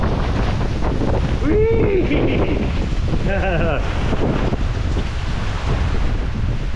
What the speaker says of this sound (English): Some more branches falling off because of the direction of the wind is bending them really good.